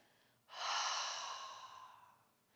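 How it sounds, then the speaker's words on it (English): Ujjayi yoga breathing through a narrowed throat with the mouth closed: a single long, soft, airy breath with a gentle snore-like rasp, swelling quickly and fading slowly over about two seconds, close and alone. "you should hear a sound coming from the back of the throat, a soft snoring sound"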